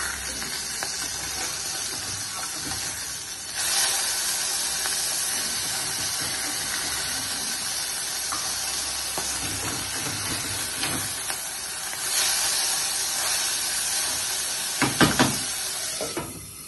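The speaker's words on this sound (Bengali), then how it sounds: "মাছটা ভাজা হচ্ছে।" Fish fries in a pan with a loud, steady hissing sizzle that swells in places, with a few light clanks of handling near the end and no talk.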